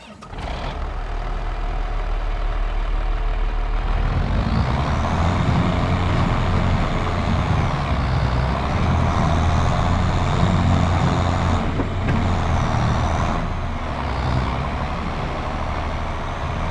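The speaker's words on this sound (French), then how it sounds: "Petit Renault Ares les amis, le Ares 600." Renault Ares 600 tractor engine in Farming Simulator 25, a loud, steady mechanical drone that starts after a short lead-in and keeps running at an even level throughout, with no talk.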